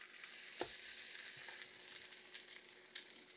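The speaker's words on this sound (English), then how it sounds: "that pan was good enough hot that you can hear a little bit of sizzle going on" French toast sizzles in a hot frying pan with a soft, steady crackle and hiss and a few sharper pops, fairly faint and close, heard alone without talk.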